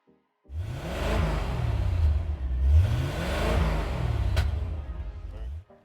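A 1980s Corvette engine fires up and revs in close, loud surges over about five seconds, with low rumbling swells that rise and fall before cutting off.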